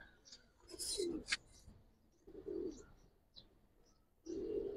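Giribaz pigeons coo in short, soft throaty bursts, three separate rounds close by, with faint chirps and light rustling between them.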